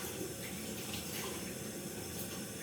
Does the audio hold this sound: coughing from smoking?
no